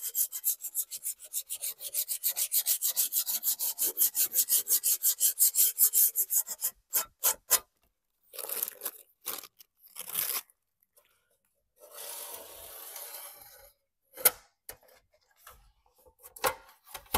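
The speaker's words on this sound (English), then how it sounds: "I'm just going to take a little bit of just some sandpaper to" Sandpaper scrubs the painted edges of a thrifted piece being refinished. A fast regular rasping run gives way to scattered short strokes, close and clear with no talk.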